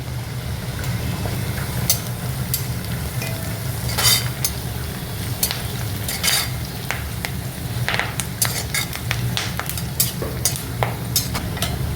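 Curry leaves and dried red chilies crackle in hot oil in a pan for Kerala-style beef roast, with a spoon scraping and clinking against the pan over a steady sizzle.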